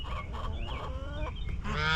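Several chickens cluck and squawk nearby, mixed with honking goose calls, a busy overlapping flock chatter with no talking.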